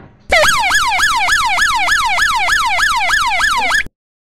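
A Tucano alarm siren sounding loud and close, its tone sweeping upward again and again in a fast repeating wail, roughly a dozen cycles over three and a half seconds, then stopping abruptly.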